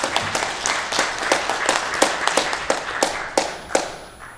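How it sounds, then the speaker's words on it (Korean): A church congregation at a Sunday service claps to welcome visiting guests, a modest, fairly rhythmic round of applause with distinct individual claps that fades toward the end. "우리 저기 계시는 박수로 한번 환영하겠습니다."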